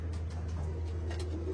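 Pigeons in a loft cooing softly, a low, steady murmur of calls at some distance with no talk over it.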